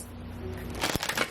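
Moon oracle cards being shuffled by hand, a brief papery riffle of card edges building near the end, close to the mic, with a low steady background hum underneath and no talking.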